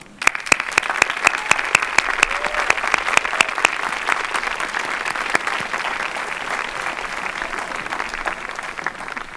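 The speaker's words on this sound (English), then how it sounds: "give a round of applause to all of these incredible people who have supported you along your 4-year journey" Graduates at a Davidson College commencement applaud their family and friends, a dense, sustained burst of many hands clapping that starts at once and holds at full strength throughout, with faint crowd noise beneath.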